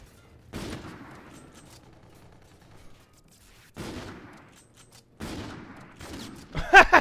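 Gunfire in Infinite Warfare, a first-person shooter, with a few separate sharp shots and bursts, each followed by a decaying tail, loud against quiet gaps, ending in a rapid cluster.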